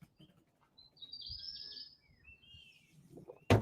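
Birds chirp and tweet on a fresh morning, with several high, sliding calls overlapping across the clip above a low background rumble, ending in a sudden loud burst of noise.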